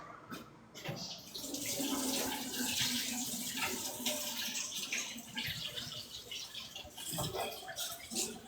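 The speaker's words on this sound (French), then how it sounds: "On remet de l'eau." Water running steadily from a tap, a loud hissing splash that fluctuates and swells for several seconds with a few clunks and brief breaks, heard close up.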